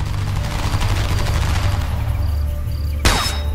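A single sharp rifle shot rings out in the video game Homefront: The Revolution's Heartland episode, loud and close with a quick echoing tail after a steady low droning background.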